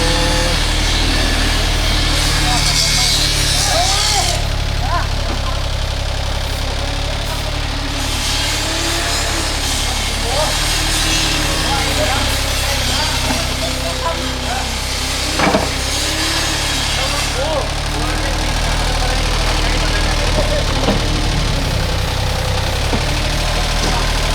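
A small used mini excavator's diesel engine idles steadily and loudly up close, a continuous low rumble with a slight loose knock, running throughout with no talk.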